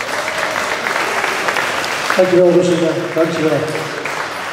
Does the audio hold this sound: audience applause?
yes